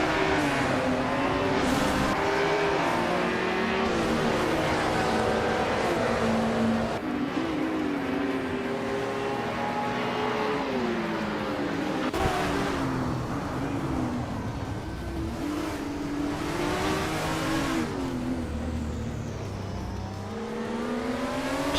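A field of race cars in a racing video game accelerates off the starting line, engines revving hard with rising and falling gear-shift whines, layered and loud throughout, with a brief tire squeal and no voices.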